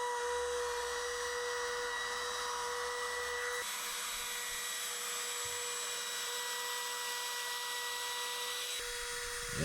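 A loud, steady high-pitched whine of a router cutting pine wood runs continuously, shifting tone slightly partway through as the cut changes, close up and without speech.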